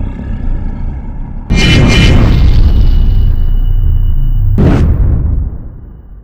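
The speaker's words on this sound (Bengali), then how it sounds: "এখন আমরা আকাশের দিকে একটা গুলি করব আর সাথে সাথে আমাদের যুদ্ধ শুরু হয়ে যাবে" A video-game gun fires into the sky, producing a sudden loud boom that rolls into a sustained roar, followed a few seconds later by a second sharp blast that fades away.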